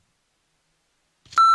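A single steady electronic censor beep starts abruptly at the very end after near silence, loud and sustained, used to bleep out a word on a nightly news talk show.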